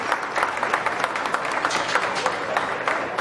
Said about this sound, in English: Congratulate him with a good round of applause